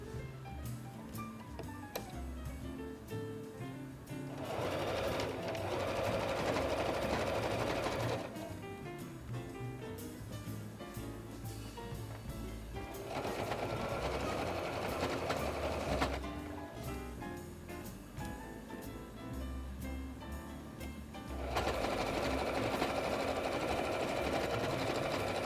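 Sewing machine stitching a doll's skirt in a craft workshop, running in steady rhythmic bursts of several seconds each, separated by quieter gaps, close and without talk.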